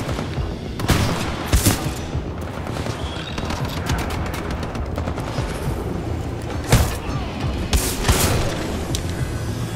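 Shots and a chaotic firefight from the shooter Titanfall 2, including pistol fire, with sharp cracks popping out of a dense, constant roar of weapons and mechanical noise.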